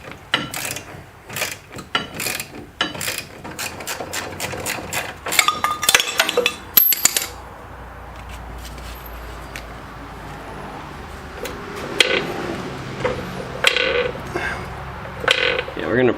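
Floor jack being pumped to compress a stock coil spring on a G-body car's control arm, heard as a run of quick ratcheting mechanical clicks and clanks, then steadier metallic creaks and taps close by in a garage.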